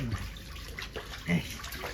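Water splashes and sloshes in a small tub as a baby is bathed, soft and close, with faint background voices.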